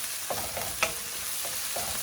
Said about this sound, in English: after shallow frying the onions